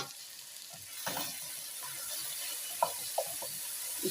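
Butternut squash cooking down in a pot for soup, a low, steady simmering hiss with soft stirring scrapes and a few light utensil clinks toward the end, no talking.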